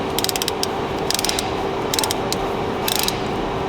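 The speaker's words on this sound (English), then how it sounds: "And that turns really easy. So it's not like the compressor is locked up. I can spin that with my fingers." The AC compressor clutch on a Ford F150 spins freely by hand, giving a clicking, ratchet-like whir in four short bursts over a steady mechanical hum, close and quiet.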